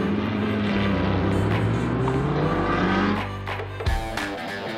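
Audi race cars roar past on a circuit at a season race, a loud sustained engine drone with shifting pitch that drops off sharply near the end.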